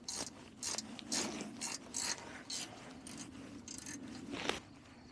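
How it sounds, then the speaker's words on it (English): A 10mm wrench ratchets as it unscrews bolts on a Royal Enfield Himalayan motorcycle, quick bursts of clicking pawl sounds close up, in a quiet setting with no talk. "first I'm going to unscrew these two bolts over here"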